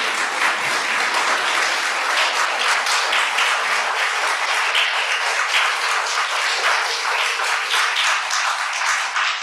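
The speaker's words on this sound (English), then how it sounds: "So round of applause to all of them and to all of you." Warm, dense applause fills the room at a women's writing group anthology reading, a continuous wash of many hands clapping at steady loudness without a break.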